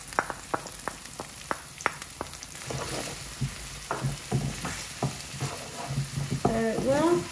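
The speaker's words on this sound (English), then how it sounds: "I'm gonna put garlic ginger paste, one tablespoon, and then some chopped green chili" Garlic ginger paste and chopped green chili fry over medium-low heat, with a series of sharp taps and clinks at first, then sizzling and stirring, and a voice speaking over it toward the end.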